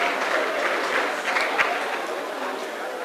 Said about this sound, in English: So can you clap your hands for yourselves because you have projects?